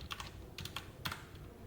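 Quick clusters of keystrokes on a computer keyboard while writing code, three short bursts of clicky taps separated by brief pauses, close and fairly soft, no talking.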